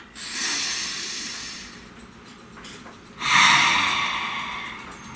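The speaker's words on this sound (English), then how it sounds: "Please take a nice deep breath." A slow, deep breath in and out, softly hissing and close to the ear, with a long inhale followed by a pause and a fuller, louder exhale, and no talking.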